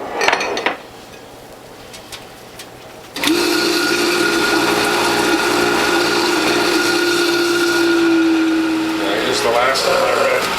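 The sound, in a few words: juicer shredding watermelon red pulp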